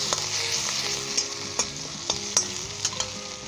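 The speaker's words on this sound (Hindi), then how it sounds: "हिला लें" A spoon scrapes through browned onions and green chillies frying in a pan, with about seven distinct, evenly spaced strokes over a soft sizzle and no speech.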